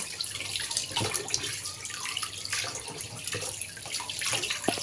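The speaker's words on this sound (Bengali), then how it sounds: "একটা একটা পিস করে মাছগুলোকে ধুয়ে নেব ভালোভাবে" Rohu fish pieces being rinsed one by one in water, with a steady splashing, running-water wash and scattered small drips and clinks throughout, fairly quiet and close, no talking.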